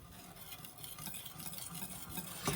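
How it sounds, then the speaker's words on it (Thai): Cornstarch being stirred into strawberry juice, a soft continuous swishing and scraping in a bowl, steady and close with a slightly louder scrape near the end. "ผสมแป้งข้าวโพดลงไปเลยค่ะ"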